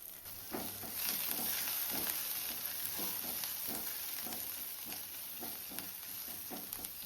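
Curry leaves with crushed ginger and garlic frying in oil and ghee for a chicken leg masala, giving a continuous soft sizzle broken by repeated spoon strokes and scrapes, close but fairly quiet.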